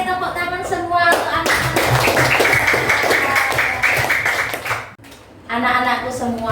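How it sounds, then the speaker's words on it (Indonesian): Schoolchildren clapping together in a classroom, a burst of rapid dense hand claps for several seconds between stretches of an adult voice and children speaking. "tepuk tangan semua"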